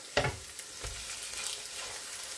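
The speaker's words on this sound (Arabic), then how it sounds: "عندي هون ربع كيلو من اللحمة المفرومة بدي اضيفها فوق البصلة" Minced meat sizzling in a pan over softened onion, with a quick clatter as it is stirred, then a steady low frying hiss.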